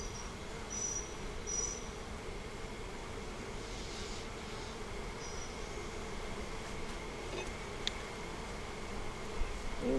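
Honey bees from a large swarm buzz in a dense, steady hum, fairly faint and spread out, with a few individual bees droning closer now and then.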